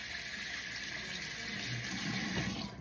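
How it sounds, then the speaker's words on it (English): Hot water runs steadily from a tap over a squishy toy, a constant close gushing hiss with no talking. "You can use any temperature of water, hot, cold. I'm using hot right now"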